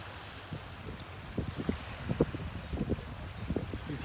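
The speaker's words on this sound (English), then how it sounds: "Hear the waves just slowly lapping up." Gentle waves lapping on a beach at a Bahamas private island, soft irregular low splashes and rolls close by, with light wind noise over the microphone.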